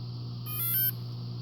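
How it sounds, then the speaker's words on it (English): A V303 drone that fails to initialize gives a brief cluster of short, high electronic beeps that stand out over a constant low hum. "Couple of short beeps"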